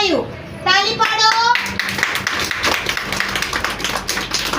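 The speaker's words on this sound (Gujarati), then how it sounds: "તાળી પાડો." Children clap their hands in a classroom, a run of quick, bright claps following a voice, with more young voices and room noise continuing under the clapping.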